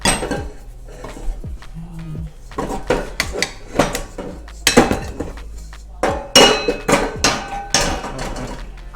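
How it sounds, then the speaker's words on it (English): Bao bun dough being kneaded by hand on a floured surface, with repeated thumps and knocks against the counter plus light clinks, loud and uneven in rhythm. "let's go knead the dough by hand"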